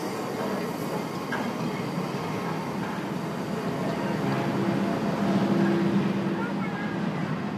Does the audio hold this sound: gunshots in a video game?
no